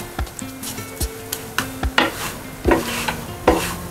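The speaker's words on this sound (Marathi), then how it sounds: "असं फिरवून भाजायचा छान, म्हणजे सगळीकडून एकसारखा भाजला जातो." An onion cheese paratha roasts on a pan, with soft sizzling under repeated scraping and stirring taps as it is turned around, close and moderately loud.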